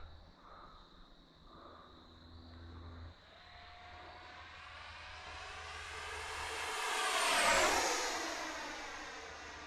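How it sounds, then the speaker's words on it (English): A Freewing Vulcan 6s electric ducted-fan RC jet whooshes and whines as it flies overhead, rising from faint to a loud peak near the close and then receding, clear and alone on a calm day. "I can actually hear all the sounds coming from the jet, not the wind blowing in my ear."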